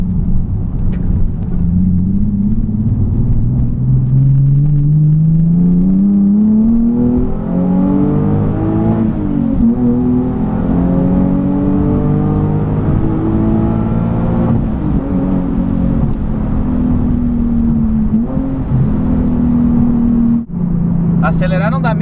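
A Nissan 370Z revs and accelerates hard, its engine note climbing steadily in pitch and holding a loud, close, continuous roar with harmonic whine before dropping off near the end.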